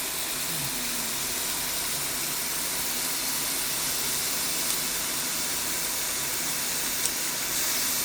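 Meat sizzling on a grill gives a steady, close, broadband hiss that continues evenly throughout, with no voices over it.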